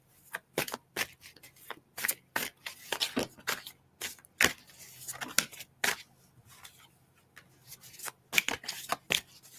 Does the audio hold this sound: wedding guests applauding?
no